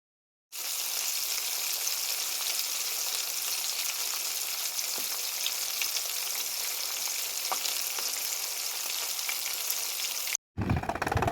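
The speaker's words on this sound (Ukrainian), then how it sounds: "доки мама смажила рибу" Continuous sizzling and crackling of fish frying in a hot pan, close and steady, with occasional pops, ending abruptly.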